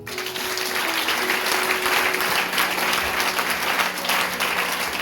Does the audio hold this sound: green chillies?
no